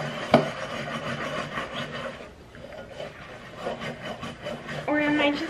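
Scrubbing with a Scrub Daddy sponge through grease, a steady rough rubbing texture with a sharp knock early on, fairly close and moderate in level.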